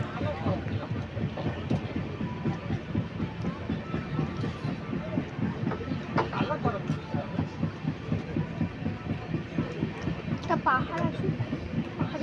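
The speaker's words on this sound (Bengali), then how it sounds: "গাইজ, ট্রেনটা এখন আসতে চলছে" Heard from inside a slowly moving passenger train, the wheels make a steady rhythmic clack over the rails with a low rumbling carriage drone, and voices murmur faintly in the background.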